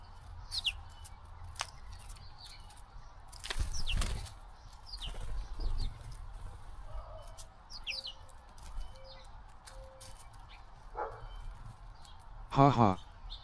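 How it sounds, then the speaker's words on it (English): A blue jay at a backyard snack feeder gives a loud, harsh, raspy call near the end, after scattered chirps, wing flaps and clatter. "Blue Jay is so loud."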